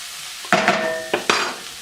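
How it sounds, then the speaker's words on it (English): In a pan being prepared for Swiss steak, a few quick metallic scrapes and clinks sound as Worcestershire sauce is mixed in: three short stirring strokes, close and fairly loud, over a faint background, with no talking. "I'm going to go with our Worcestershire sauce. Same thing, just mix it up."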